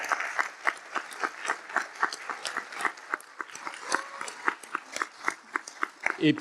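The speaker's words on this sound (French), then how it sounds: "je crois qu'on peut les applaudir" Scattered, uneven hand claps from a small conference audience at a university closing session, honouring the organisers; the claps stay fairly faint and sparse throughout.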